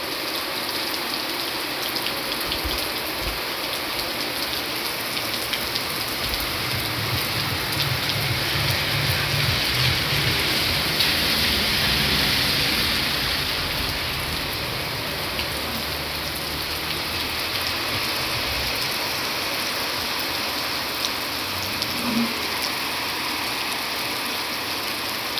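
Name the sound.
heavy rain falling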